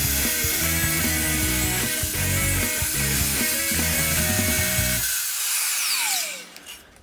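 A power saw whines and bites through engineered wood flooring in a loud, close cut with shifting pitch as the blade works, then spins down and stops near the end.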